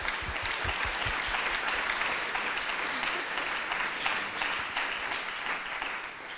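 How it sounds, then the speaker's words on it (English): Big round of applause from the audience at a student startup pitching competition, dense steady clapping that holds loud and even through the whole stretch. "Could you make a big round of applause?"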